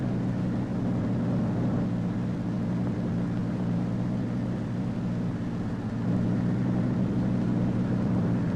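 An airplane with a chase plane nearby takes off and flies, heard as a steady, loud engine drone that holds throughout with a slight swell toward the end.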